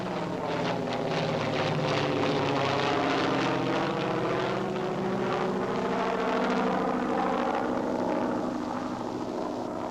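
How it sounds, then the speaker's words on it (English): A PBY flying boat's propeller engines roar steadily on takeoff while towing a CG-4A glider in wartime footage, a loud, continuous drone with a slowly shifting pitch and no talk. "Note the takeoff of the PBY before the glider."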